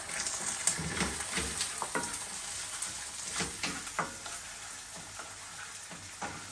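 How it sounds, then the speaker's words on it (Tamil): Eggs frying and being stirred in a pan for mushroom fried rice, a steady sizzle with repeated scraping strokes of the spatula, close and moderately loud, no talk. "முட்டை போட்டாச்சு. 5 முட்டை போட்டிருக்கேன். முட்டை வயிற்றுலேருந்து எடுத்துருக்கேன். இப்போ கிண்டி விடுவோம்."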